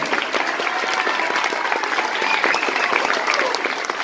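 A crowd at a political rally claps steadily and energetically, a dense wash of applause with a few cheers mixed in, holding at an even level.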